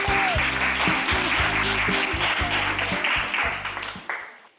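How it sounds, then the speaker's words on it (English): Audience applause after a sung piece, steady clapping mixed with a sustained, rhythmically pulsing tone in the low range, fading toward the end. "can we all give him a hand"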